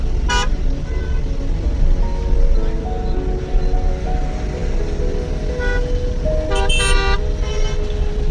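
Dense afternoon road traffic hums and rumbles without a break, close and loud, while car horns toot in short bursts, one early and a cluster of several near the end.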